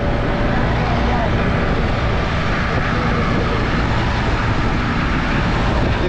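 A fishing boat's engine drones loud and steady at sea, a constant broadband roar with no pauses from start to finish.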